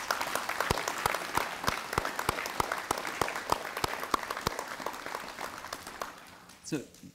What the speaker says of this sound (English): I just want to give a round of applause to all the teachers who have made a difference in people's lives.